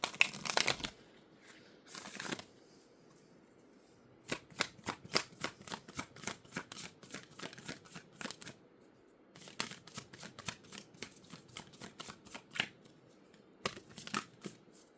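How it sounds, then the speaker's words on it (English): Moonology oracle cards being shuffled in repeated riffling bursts, crisp papery flutters close by with short pauses between runs, no talking. "I'm gonna go ahead and pull a Moonology card to continue this message."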